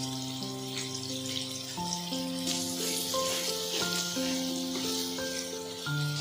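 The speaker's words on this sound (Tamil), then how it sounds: "மாங்காய் பார்த்திங்கன்னா எண்ணெயிலே ஒரு 2 மினிட்ஸ் நல்லா வேக விடலாங்க." Mango pieces fry in oil for a mango pickle, giving a soft continuous sizzle beneath steady background music with sustained tones.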